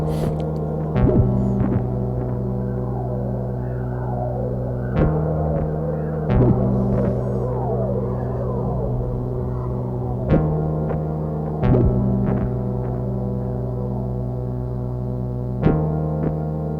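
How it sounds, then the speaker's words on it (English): A low synth bass drone from a Polyend Tracker Plus with repeating throbbing notes and layered tonal noises over it, steady and moderately loud, no voices. "Oh, and the bass is still going."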